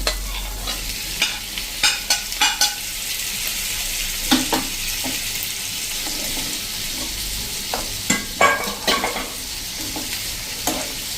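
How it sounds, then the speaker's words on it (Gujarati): Chopped onion and tomatoes frying in a pan, with a steady sizzle and repeated scraping stirs against the metal, close and fairly loud, without any talking. "એક મીડિયમ સાઈઝનો મેં કાંદો સમાર્યો છે અને આમાં એડ કરી દઈશું. અને જે આ ટમેટા સમાર્યા છે એને પણ નાખી દઈશું."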